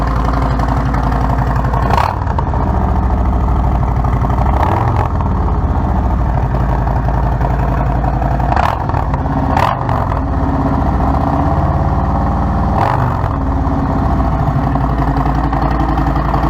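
A Harley-Davidson touring motorcycle with 4.5-inch mufflers and zombie baffles idles on a cold start around 1200 to 1400 RPM, a loud, close, deep lumpy rumble with several brief blips and clattering pulses, alone without speech.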